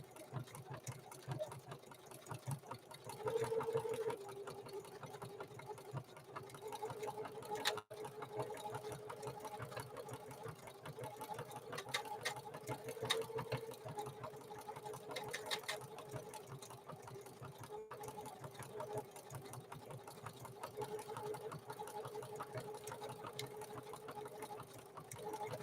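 A Necchi NE30 sewing machine stitches canvas with a faint, steady mechanical whir and rapid rhythmic ticking that runs on throughout.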